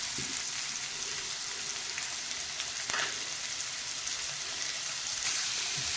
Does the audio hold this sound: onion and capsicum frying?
yes